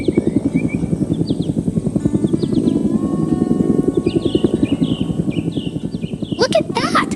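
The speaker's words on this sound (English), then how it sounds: "A massive helicopter is flying in heavy equipment." A massive animated helicopter flying in heavy equipment, its rotor thumping in a fast, loud, continuous pulse with a steady engine whine, while small high chirps and a brief burst of other sounds come near the end.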